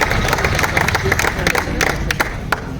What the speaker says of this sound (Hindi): मैं चाहता हूँ एक बार जोरदार तालियां